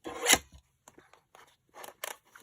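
Several short snips of stamp scissors cutting stamps out of paper junk mail, close and fairly quiet, with brief pauses between cuts.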